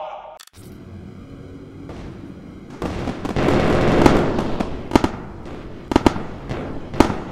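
Fireworks set off together in the Roblox game Build a Boat: a dense crackling roar builds, then several sharp, loud bangs burst at intervals near the end.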